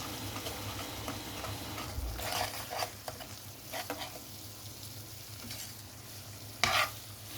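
Chicken tocino sizzles steadily in a pan while a utensil stirs and scrapes it in scattered strokes, with one louder scrape near the end.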